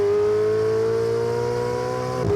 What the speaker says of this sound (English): for the Roma, they've tweaked the exhaust and fiddled around with the bypass valves so it really hits those